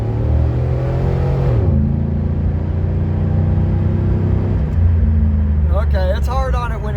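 A 2005 Chevrolet Silverado with a junkyard LS swap and aftermarket cam revs loudly and spins its tires, hitting the rev limiter; a steady heavy engine drone is followed by a rising, wavering high whine near the end.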